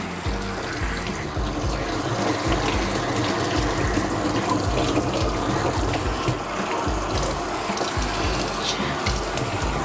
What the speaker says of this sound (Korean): 린스 역시 깨끗하게 맑은 물이 나올 때까지 헹궈주세요.